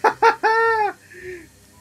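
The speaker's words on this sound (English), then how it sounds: "the flashlight killed the bird" A cartoonish game bird in Luigi's Mansion 3 lets out two short clucks and then a longer drawn-out squawk after being hit by Luigi's flashlight beam, with a faint chirp trailing off at the end.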